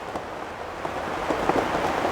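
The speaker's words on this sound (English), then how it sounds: "We are now listening to this wonderful rain." Steady rain falling on a surface, a dense even patter with scattered louder drops, moderately close and continuous with no voices.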